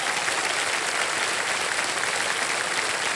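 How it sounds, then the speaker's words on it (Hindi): A studio audience on the Indian quiz show Kaun Banega Crorepati applauds to welcome a contestant, a dense, even wash of many hands clapping loudly and continuously with no voices over it. "तालियां बज जाए।"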